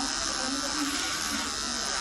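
An electric hair trimmer buzzes steadily at close range during an impromptu haircut, a continuous droning hum that holds even for the whole moment with no voices over it.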